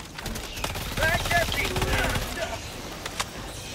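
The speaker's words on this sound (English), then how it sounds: "Little machine pistol." Rapid machine pistol fire in the video game Helldivers 2 crackles in short bursts through most of the stretch, mixed with game effects and overlapping player voices.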